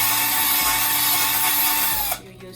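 A power drill whines steadily at high speed while boring a hole in a thrift-store home decor piece, then stops abruptly near the end, leaving quiet room sound.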